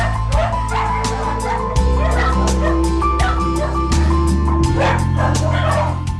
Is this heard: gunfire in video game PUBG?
no